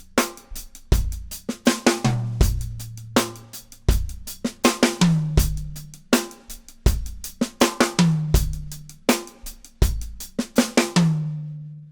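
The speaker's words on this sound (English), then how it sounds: "replace that hi-hat note with a note on the snare drum played with the left hand" A sixteenth-note drum groove in which a left-hand snare note stands in for one hi-hat stroke, with kick, snare and hi-hat repeating in steady bars, played alone, close and loud.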